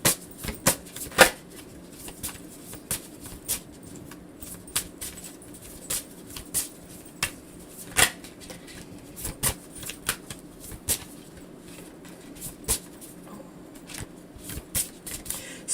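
A deck of cards being shuffled by hand, crisp riffling snaps and soft flutters repeating in short irregular bursts, close and alone with no talking.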